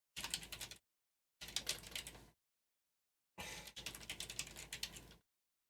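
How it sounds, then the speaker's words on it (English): Typing on a computer keyboard into WordPad comes in three quick bursts of rapid, close key clicks, separated by short silences, with no talk. "I'm short-circuiting it by typing it in WordPad"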